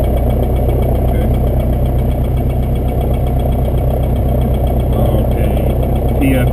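A light aircraft engine idles steadily before takeoff at Linden Airport, with a constant low rumble and vibration, loud and close, without pauses throughout.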